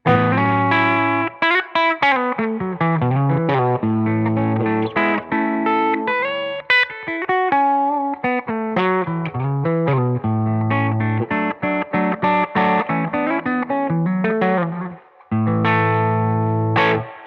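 Gibson ES-339 electric guitar through a Benson Monarch reverb amp, playing melodic lines with a warm, spacious reverb tail, notes ringing and sustaining continuously with a slightly driven tone.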